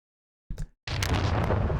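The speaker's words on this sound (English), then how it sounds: "This is a sound from the previous design for the explosion." A designed explosion effect built from swoosh recordings: a short muffled burst, a brief silence, then a loud, sustained roaring blast that holds steady to the end.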